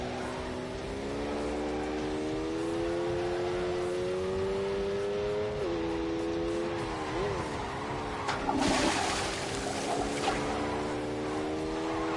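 A Lamborghini engine drones with a steady, rising tone in The Grand Tour racing game, shifting pitch as it revs, with a burst of louder noise near the end and a voice talking now and then.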